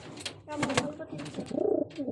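Pigeons coo in low, throaty rolling phrases, one bubbling call standing out near the end, while people talk nearby over a noisy background.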